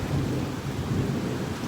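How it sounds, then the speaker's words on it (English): Thunder rumbles low and steady through a thunderstorm, a broad continuous roll with rain underneath, loud and close for nearly two seconds with no voices. "where the thunder just claps"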